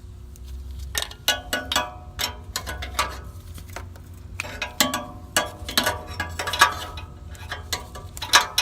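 Hand ratchet tightening an oxygen sensor on a car, quick clustered clicking strokes repeated in short bursts with brief pauses between, close and clear, with nobody talking.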